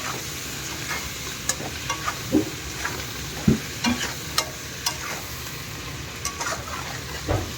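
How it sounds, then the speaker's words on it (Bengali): Potato pieces frying with salt and turmeric in a pan, a steady sizzle broken by sharp scraping stirs every second or so, close and fairly loud with no talking. "আলুটা একটু নুন হলুদ দিয়ে লাল করে ভেজে নেব।"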